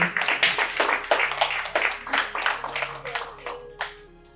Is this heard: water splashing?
no